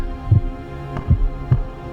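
Heartbeat sound effect with reverb: three strong, steady low thumps, each a quick double beat, evenly spaced and fairly loud over a faint hum.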